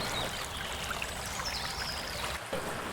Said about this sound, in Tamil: இந்த தொட்டியிலேருந்து தான் அந்த சிங்கவாய் வழியாக தண்ணீர் வருது.